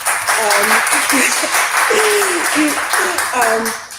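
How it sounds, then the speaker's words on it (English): An audience claps steadily at a live broadcast from a co-working space, a dense, even patter throughout, with voices calling out and talking over it. "let's clap it up for the third a little bit"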